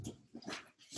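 A dog waiting at a house door lets out a few short, close whimpers and whines, in choppy bursts with brief pauses between them.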